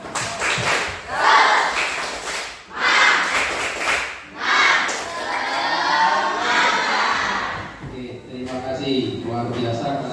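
A junior high classroom performs the tepuk semangat spirit clapping chant, bursts of group clapping and shouted chanting in rhythmic waves, loud and close, ending with a voice over quieter chatter.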